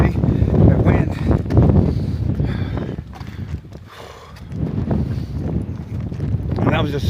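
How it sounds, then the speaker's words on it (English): Strong gusts of wind buffet the microphone on an exposed stretch of the Appalachian Trail, a loud roaring rush that swells, dips briefly, then builds again, with a voice speaking over it. "See that wind."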